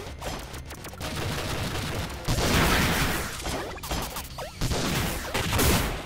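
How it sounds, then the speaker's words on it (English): Shotgun blasts in the side-scrolling game Iconoclasts come as loud, dense bursts of booming gunfire, several shots close together amid constant crashing action noise. "Oh, she's shooting with a shotgun."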